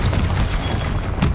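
A Confringo explosion spell going off in Hogwarts Legacy, a loud, dense boom that fills the whole moment with a rumbling blast.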